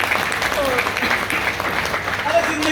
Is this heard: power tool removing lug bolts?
no